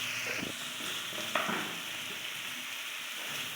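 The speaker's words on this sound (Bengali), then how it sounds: "এর ভিতর দিয়ে দেব কেটে রাখা টমেটো কুচি" Chopped tomatoes go into a pan of frying soybean curry, giving a steady close sizzle with a brief burst of spitting and stirring as they land, then settling back to an even fry.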